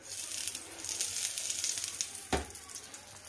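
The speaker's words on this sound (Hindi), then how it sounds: "ऑयल ये हमारा गर्म हो गया है. अब इसमें हम डालेंगे पिंच ऑफ हींग" A pinch of asafoetida hits hot oil in a pan and sizzles with a steady, close crackling hiss throughout, with one brief louder clunk partway through.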